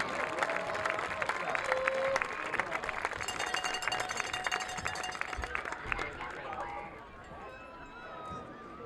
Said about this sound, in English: How about another round of applause for all of our servicemen and women?